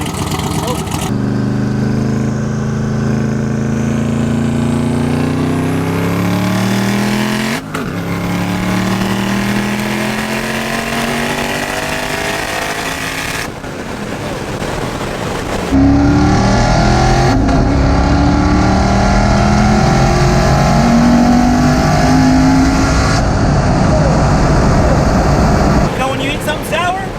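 A 1500-horsepower turbocharged Corvette Z06 street car accelerates hard from inside the cabin. The engine climbs steadily in pitch through several gear changes, then drops and climbs again, loud and continuous throughout.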